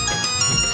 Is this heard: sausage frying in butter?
no